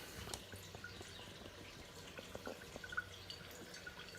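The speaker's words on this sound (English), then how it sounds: "it should be drip, drip, drip, drip, drip, drip, drip, drip, drip, spurt, drip" Distillate from a single malt American whiskey still dripping into a collection jar, faint, irregular small drips over a quiet background with no speech.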